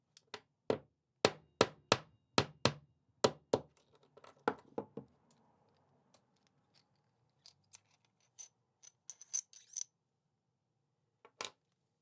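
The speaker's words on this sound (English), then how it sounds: "I used the hub axle again to gently tap out the bearing with the soft side of the hammer" A soft-faced hammer taps a bearing out of a DT Swiss EXP hub, using the hub axle as a drift: a run of sharp, evenly spaced knocks that then give way to lighter, scattered taps and a final strike.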